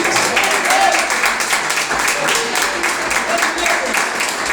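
Church congregation clapping together in praise for Jesus, a loud, dense rhythmic wash of hand claps with voices mixed in.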